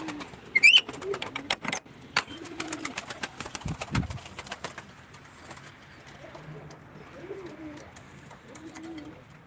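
Pigeons coo softly in repeated low calls at a pigeon auction in Ankara, with sharp clicks and rustling near the start and a whistle-like chirp.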